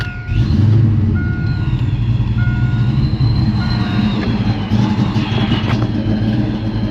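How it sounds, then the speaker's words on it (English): A car from a European-influenced collection runs with a loud, steady engine rumble that fills the whole stretch, with faint high tones riding over it and no voices. "Car starts up quick when it starts."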